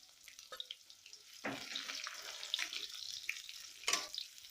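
Chopped onions fry in oil in a Bengali village kitchen, giving a quiet, crackling sizzle that swells into a steady hiss with a few sharper spits.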